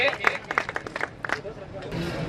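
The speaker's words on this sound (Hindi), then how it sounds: "इनके लिए जोरदार तालियां बजाई जाए" Scattered, uneven clapping from an audience at the opening ceremony of a biocoal factory in Mohan Badodiya, with sharp separate claps over murmuring background noise, thinning out toward the end.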